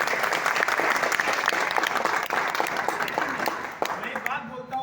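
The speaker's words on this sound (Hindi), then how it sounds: "एक बार जोरदार ताली होनी चाहिए।" An audience at a gathering breaks into sustained, dense applause, loud and continuous for several seconds before thinning slightly at the end.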